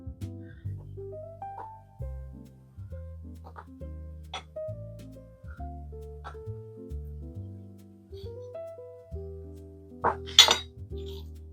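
A spoon scrapes and clinks against the pot while BBQ sauce is stirred into a jackfruit, onion and mushroom mixture cooked in an Instant Pot. Soft, scattered taps sit under steady background music, ending in a brief, sharper clatter.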